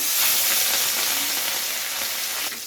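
Katla fish frying one piece at a time in smoking-hot mustard oil in a kadai, a steady loud broadband sizzle and crackle that continues throughout with no talking.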